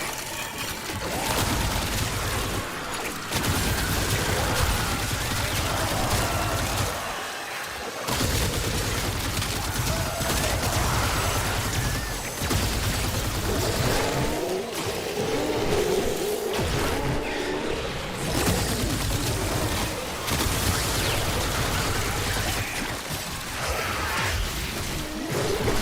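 Rapid gunfire from the Warframe video game, dense sustained bursts of shots and booms with short pauses, loud and continuous across the fight.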